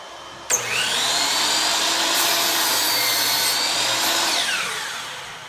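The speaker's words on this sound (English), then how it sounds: "I'm going to go ahead and make my first cut." A miter saw cutting through MDF crown molding: a sharp start, then a loud steady whining cut of about four seconds that winds down at the end, close and alone.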